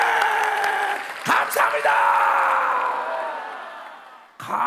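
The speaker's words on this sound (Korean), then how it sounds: "다시 한번 그분에게 감사의 박수를 열정적으로" Church congregation applauding during a Sunday worship service, a burst of clapping and cheering that swells and fades under a preacher's amplified voice, with a fresh burst at the end.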